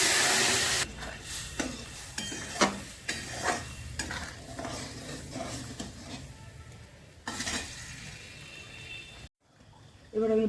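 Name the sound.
pouring pressure-cooked dal into the pan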